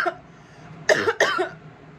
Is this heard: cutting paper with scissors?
no